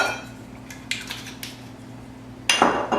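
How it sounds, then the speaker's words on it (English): A whisk clinks against a bowl while mixing a cornstarch and Shaoxing wine sauce, a few quick metallic taps and scrapes followed by a louder burst of rapid clattering near the end. "We're just going to whisk it to remove any lumps."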